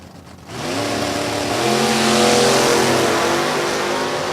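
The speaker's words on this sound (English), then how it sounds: "So Adkins coming up in his 1967 Camaro" 1967 Camaro drag racing car launching at a drag strip, its engine bursting in after a short quiet lead-in and revving hard as a loud, close, rising roar that holds to the end.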